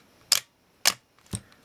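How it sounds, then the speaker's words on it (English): Minolta X-570 film camera shutter firing at one-second speed: three sharp mechanical clicks spaced about half a second apart, close and crisp against near silence. "the shutter will stay open for as long as I hold the button down"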